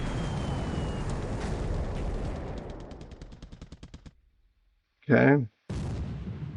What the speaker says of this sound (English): More torpedo hits into these ships.